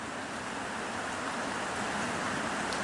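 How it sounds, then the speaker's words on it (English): Steady rain drumming on a metal roof at Bald Hill Natural Area in Corvallis, Oregon, on a wet December day, a dense, even patter that holds constant throughout with no voices. "I'm just listening to the sound of the rain on the metal roof."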